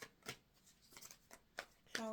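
Tarot cards are shuffled by hand in a few quick, soft riffling bursts, faint and close, separated by brief pauses.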